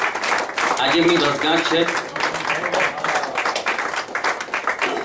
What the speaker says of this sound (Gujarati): તો પહેલા તો આપણે યામિનીબેનને તાળીઓના ગગડાથી વધાવીએ.